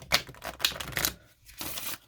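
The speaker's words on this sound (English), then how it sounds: "One more shuffle." Tarot cards are shuffled in quick riffling bursts, crisp papery flutters close up with short pauses between them.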